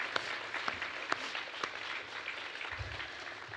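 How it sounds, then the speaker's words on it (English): Audience applause at a hospice charity event, a soft, distant patter of clapping with a few sharper individual claps, steady across the moment with no voices over it. "Let's give them a round of applause for the extraordinary generosity."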